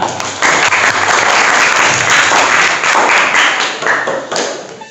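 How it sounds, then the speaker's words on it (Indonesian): A classroom of students applauds a classmate's summary in an Islamic religious education lesson, loud close clapping with some desk taps and thumps, sustained before fading off. "tepuk tangan untuk simpulan yang disampaikan oleh Anissa"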